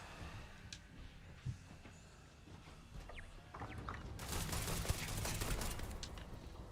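Automated turret gunfire in the space game Starfield, starting partway through as a dense, sustained rattle of rapid shots that drowns out quieter ambient game sounds.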